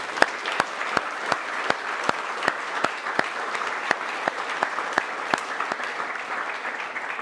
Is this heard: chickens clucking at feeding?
no